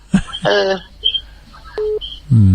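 Telephone dialing tones at a temple livestream in Chiang Mai come as short electronic beeps and a held tone between bursts of nearby speech.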